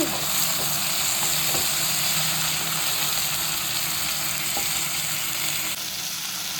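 Bitter gourd frying in a pan for a curry gives a steady, close sizzle throughout, with a few soft clicks of stirring and a slight drop in the hiss near the end.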